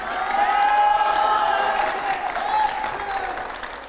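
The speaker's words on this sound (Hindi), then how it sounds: "जरा जोरदार पहले तालियां हो जाए" A studio audience at a Lok Sabha Elections 2024 television interview breaks into loud, sustained applause with cheering voices, continuing for the full stretch with little let-up.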